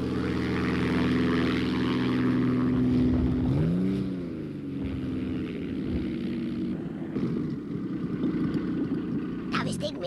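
Cartoon propeller airplane, converted from a toy train, droning steadily with a loud engine hum whose pitch bends and wavers midway before settling into a rougher, quieter buzz.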